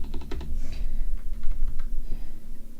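Typing on a SteelSeries Apex M800 gaming keyboard with a large space bar, a quick close run of clacking keystrokes in uneven bursts, heard clearly on its own.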